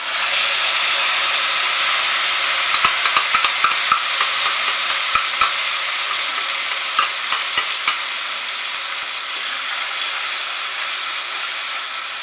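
Whole spices for vegetarian biryani fry in hot oil in a pan, a loud steady sizzle and hiss with scattered small pops and crackles, no voices.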